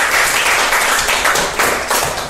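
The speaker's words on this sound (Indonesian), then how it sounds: "Tepuk tangan yuk buat Jonathan." Brief applause from a small class group at a school discipleship worship session for a student named Jonathan, steady clapping throughout.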